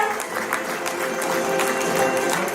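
An audience at an award ceremony honouring teachers applauds Chandigarh University, with dense, steady clapping from many hands throughout and a slight swell near the end.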